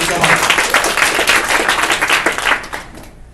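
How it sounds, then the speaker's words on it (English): A room of people gives a round of applause, with dense, loud, steady clapping that rolls on and tails off toward the end. "just want to give a round of applause to all you guys for being here today and all the energy"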